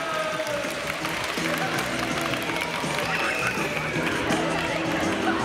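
A game-show audience at a gathering of local mascot characters claps to vote, a dense patter of applause and crowd noise lasting several seconds, with an announcer's voice talking over it.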